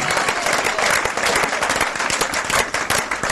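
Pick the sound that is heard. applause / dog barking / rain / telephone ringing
applause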